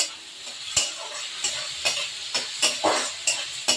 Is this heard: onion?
yes